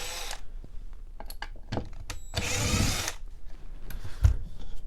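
A power drill spins screws out of nylon drawer runners on an Ikea-style drawer, giving several short whirring bursts and one longer run, with clicks and knocks of handling between them and no talk.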